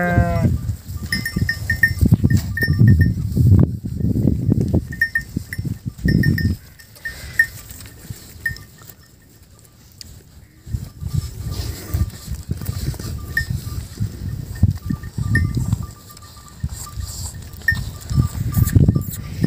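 A flock of over a hundred sheep and goats bleats repeatedly in an open grazing area, with a cowbell clinking, loud and close at first, then quieter for a few seconds before the bleating swells again.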